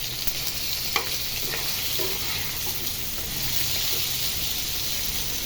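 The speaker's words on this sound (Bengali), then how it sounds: "মুরগি ভাজতেছি আর আলু ভাজতেছি" Chicken pieces and potatoes frying together in hot oil while a large batch of tehari is cooked for iftar, giving a steady close sizzle with occasional stirring scrapes and no talk.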